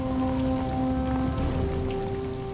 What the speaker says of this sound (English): rain shrouds the mountain.